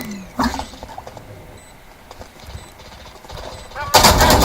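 Gunfire rings out in a shooter video game, a loud burst of shots that starts suddenly at the end after quieter clicks and game noise, with a voice briefly under the mix.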